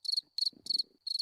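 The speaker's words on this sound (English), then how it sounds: "The crickets." Crickets chirp in short, rapid bursts, four pulsed trills separated by brief gaps, shrill and fairly close, with a faint low murmur between two of the bursts.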